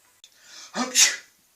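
One person sneezes loudly and close, a quick inhaled build-up followed by a sharp burst.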